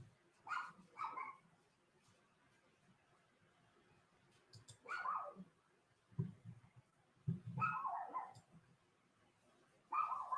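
Small dog barking: scattered yips and short barks in uneven bursts, faint and somewhat distant over a quiet background.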